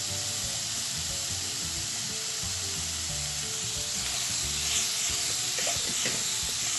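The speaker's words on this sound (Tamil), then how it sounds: "2 ஆனியன் கட் பண்ணி உள்ள ஆட் பண்ணிருக்கேன். இது நல்லா ஃப்ரை ஆகி வரணும்." Two chopped onions frying in a pan for a bitter gourd curry, a steady close sizzle and hiss running throughout with a few faint scrapes and bubbling pops later on, no voices.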